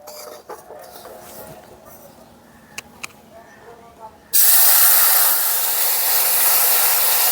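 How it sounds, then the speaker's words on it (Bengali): Water poured into a pan of semolina and sugar roasting for sujir halwa gives a sudden loud, steady broadband hiss and sizzle that breaks in after quieter clinking and stirring, and it holds strong to the end. "আর এই পর্যায়ে আমি দিয়ে দেব জল।"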